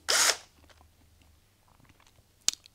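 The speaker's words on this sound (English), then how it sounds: "a drill attachment" A drill fitted with a polishing attachment whirs briefly and loudly on a Royal Enfield Classic oil filter cap with polishing compound, then falls quiet apart from faint handling noises and a short sharp clack near the end.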